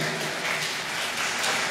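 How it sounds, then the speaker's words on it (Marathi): A church congregation at the Suvart Alliance Church annual meeting in Nandurbar gives a short burst of applause, a soft, even wash of clapping lasting under two seconds. "टाळ्या कमी पडत आहे."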